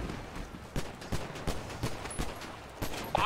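Gunfire in a GTA roleplay shootout, a ragged series of sharp shots spaced irregularly over a noisy game background, moderately loud, with a louder burst at the end.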